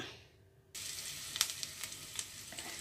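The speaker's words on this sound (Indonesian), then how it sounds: "nah kita tumis bawang merahnya sampai dia uh, layu dan baunya harum" Shallots sautéing in oil in a pan, a steady sizzle starting abruptly after a brief quiet moment, with small crackling pops scattered throughout, close and fairly loud.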